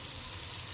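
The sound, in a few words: crushed ginger and garlic frying in a pan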